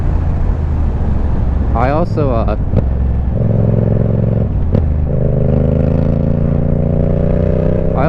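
Yamaha MT-07 motorcycle engine heard from the rider's position, rolling on and off the throttle with a quick rev burst and then a steady, smooth droning pull under wind rush, while a rider talks.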